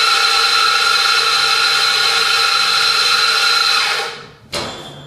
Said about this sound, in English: Grind my coffee fresh.